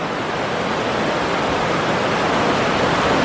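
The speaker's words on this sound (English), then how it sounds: "falls freely over a rock, and then a bigger free-falling cascade" Water cascades freely over a rock, a steady, dense rushing roar with no breaks, loud and broad like a close waterfall.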